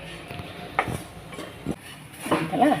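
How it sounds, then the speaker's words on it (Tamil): A spoon or spatula scrapes and stirs dry chammanthi powder ingredients around a metal pan as they dry-roast, with steady scratching and occasional clinks, close and continuous. "நல்லா எல்லா இடத்துலையும் இப்படி நல்லா சுற்றி சுற்றி இப்படி வறுத்துக்கோங்க"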